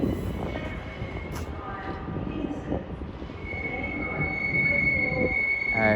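A South Western Railway service from Exeter St David's rolls into a London terminus, a heavy low rumble of wheels and carriages with a thin high squeal that swells toward the end.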